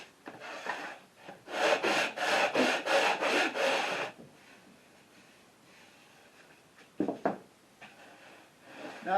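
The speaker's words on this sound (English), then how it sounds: "I'm going to do this with just a block with sandpaper." A sandpaper block rubbed over the braces of an acoustic guitar top, a burst of about eight quick rhythmic rasping strokes up close, then quiet with a couple of brief scrapes later on.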